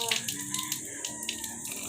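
Water pours steadily into a gallon jug, a bright splashing rush close by with no talking.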